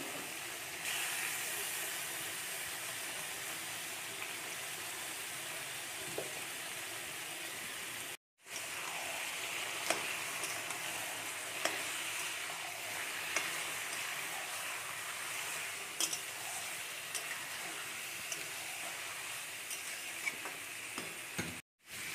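Marinated chicken in sour yogurt going into a pan of frying onions, a steady loud sizzle and hiss that carries on nearly unbroken for twenty seconds with occasional stirring scrapes.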